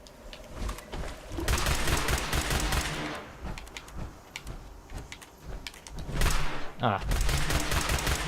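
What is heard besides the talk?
two shot laser pistol firing in video game Fallout 76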